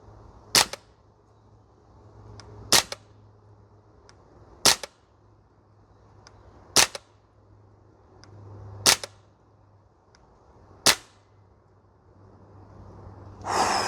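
An Archwick APC9K PRO gas blowback airsoft rifle fires six sharp single shots at a range target, evenly spaced about two seconds apart, each a crisp snap over a low steady hum.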